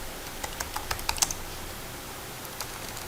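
A computer keyboard clicks under quick, light typing as a description is entered into a document-upload form. A brisk burst of keystrokes comes first, then a few scattered taps, close and fairly soft.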